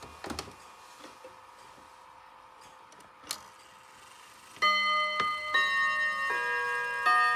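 An antique European clock ticks with sharp, irregular knocks and clicks, then bright ringing metallic tones sound several times close by, loud against a quiet room with no talking.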